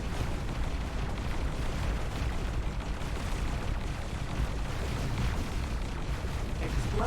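A sustained roaring blast rumbles through a space station being destroyed in a sci-fi video game, a dense, loud, continuous wash of explosion noise with no voices over it.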